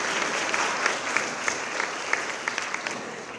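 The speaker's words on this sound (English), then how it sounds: "I think they deserve a big round of applause" Sustained audience applause at a university postgraduate researcher induction, a dense wash of many hands clapping steadily for a few seconds with scattered louder claps standing out, moderately distant and without speech.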